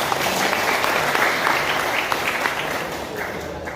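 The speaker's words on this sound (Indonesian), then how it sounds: "Tepuk tangan untuk Bandrong Banten." Sustained audience applause for Bandrong Banten martial artists at a Nahdlatul Ulama cultural gathering, a dense steady clatter of many hands holding level throughout and fading slightly at the end.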